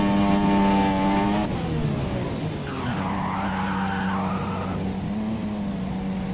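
An F1 2017 race car spinning and crashing on a wet track in a video game: a high engine whine drops off into screeching tyre skid and scraping, with the motor droning on near and loud.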